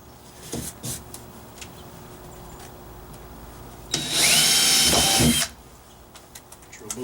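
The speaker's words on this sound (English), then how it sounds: "You're going to go ahead and drill your hole right down in there." A power drill whirs loudly for about a second and a half while drilling holes for a kayak paddle clip, with scattered clicks and knocks around it and some quiet talking.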